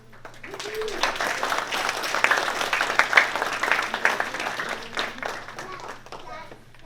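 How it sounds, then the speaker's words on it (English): Audience at a community college completion ceremony clapping for the instructors, the applause swelling to a dense peak midway and then tapering off, with some voices underneath. "give you a round of applause"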